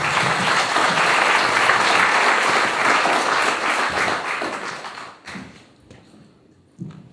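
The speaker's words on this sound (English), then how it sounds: "Round of applause, please." An audience applauds at a language services organisation's 25th anniversary speech event, with dense clapping that holds strongly for about five seconds and then quickly dies away into quiet, with a few soft knocks at the end.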